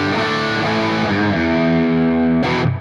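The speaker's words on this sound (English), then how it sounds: "should sound like a Marshall with a bit of reverb on it" Distorted electric guitar through a Neural DSP Nano Cortex on a Marshall-style crunch setting with reverb, sustained chords ringing loud and close for about three seconds, ending in a short scraping pick noise.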